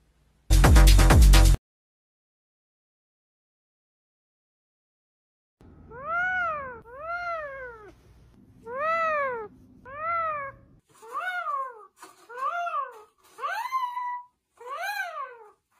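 A cat meows repeatedly, about nine clear rising-and-falling calls in a row, close and loud, the later ones shorter and quicker, following a brief loud burst of other sound and a few seconds of silence.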